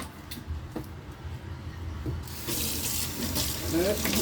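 Tap water running into a kitchen sink for rinsing, starting soft and faint with small clinks, then swelling into a louder, fuller gush of water during the last seconds.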